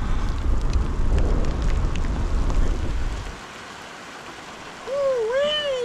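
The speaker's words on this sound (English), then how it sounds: "A little bit of rain." Light rain falling in Swedish woods, a loud rushing patter with wind noise that drops away partway through, followed by a bird's high chirping calls.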